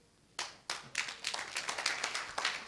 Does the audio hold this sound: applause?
yes